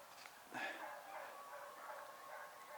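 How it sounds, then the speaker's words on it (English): Faint dogs barking and yelping far off across open ground during a road bike ride, with a light voice and outdoor ambience around them. "A lot of barking dogs up there, isn't there? You hear the dogs?"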